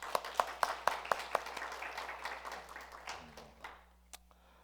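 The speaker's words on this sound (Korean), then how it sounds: "청소년들 위해서 박수 한번 쳐줄까요?" A church congregation gives a round of applause for the youth after their praise song: a few sharp, evenly spaced claps at the start, then a softer wash of scattered clapping that fades out.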